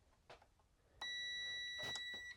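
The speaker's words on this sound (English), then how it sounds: "you're gonna have to select continuity, and it has to make a beep" A single steady electronic multimeter continuity-test beep switches on and holds until the end, with faint handling clicks and rustles around it, while testing a Frigidaire microwave part.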